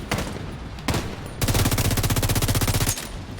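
Automatic rifle fire in the shooter game The Division 2: a couple of short bursts, then a sustained rapid string of loud, evenly spaced shots lasting about a second and a half, close and without talk.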